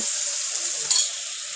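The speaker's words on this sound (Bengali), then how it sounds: "তারপর আমি কেটে রাখা আলুগুলোকে ভেজে নেব" Cut potatoes frying in mustard oil in a wok, a steady close bright sizzle with a brief clink of stirring partway through.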